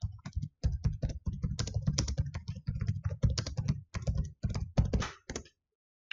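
Fingers type on a computer keyboard at close range, tapping rapid irregular bursts of clicky keystrokes with short pauses between them, ending in silence.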